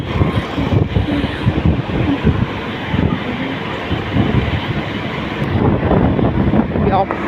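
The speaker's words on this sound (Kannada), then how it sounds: "ಯಪ್ಪ, ಫುಲ್ ಗಾಳಿ ಬೆಂಕಿ ಗಾಳಿ ಐತೆ ಇಲ್ಲಿ." Strong wind blowing outdoors buffets the microphone in a loud, continuous rumble with gusts rising and falling throughout.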